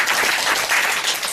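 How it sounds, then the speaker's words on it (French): Applause from the audience at an improv comedy show, a brief, dense and fairly loud burst of many hands clapping together with no talk over it. "on applaudit aussi un petit peu"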